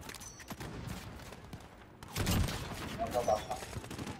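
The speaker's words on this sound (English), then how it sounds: "I'm getting shot from where?" Gunfire in the multiplayer shooter Call of Duty Modern Warfare (2019): scattered shots at first, then a denser, louder burst of fire around the midpoint, with a voice talking under the shooting.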